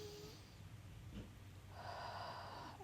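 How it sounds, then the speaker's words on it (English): A slow, deep inhale during a guided meditation, breathy and close, swelling into a long airy rush in the second half over a faint steady background hum. "Take one more deep breath in"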